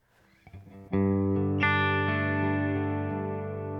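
A guitar rings out through a lush, wide reverb, chords blooming and sustaining into a long, smooth tail.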